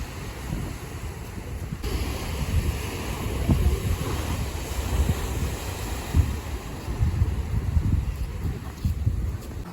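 Ocean surf at La Jolla beach in San Diego rolls in as a continuous wash of breaking waves, steady and fairly close, with wind buffeting the microphone and no voices.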